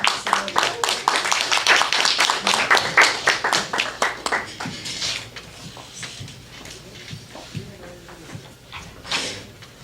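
Small audience clapping for a performer at an open mic in a brewhouse gallery, crisp distinct claps that are strongest early and thin out after about five seconds, with scattered talk and noise underneath.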